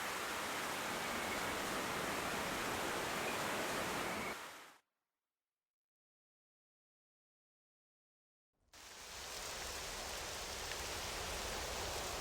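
Steady broadband hiss of rain falling in the video game Octopath Traveler II, loud and even, cutting to silence for a few seconds in the middle before resuming.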